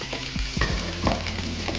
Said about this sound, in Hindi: घी गर्म हो गया है, अब ये ड्राई फ्रूट हम डाल देंगे